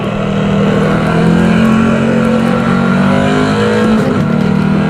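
A Corvette C7 Stingray engine in the racing game Assetto Corsa roars loud and steady at high revs, holding a sustained tone with a slight shift in pitch near the end.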